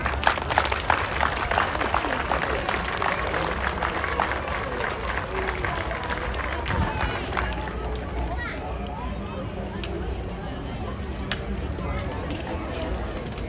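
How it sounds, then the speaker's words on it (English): Sustained applause from a crowd at a fire and rescue service public day at Cardiff Bay, dense and continuous, mixed with chatter and children's voices outdoors. "Give them a round of applause."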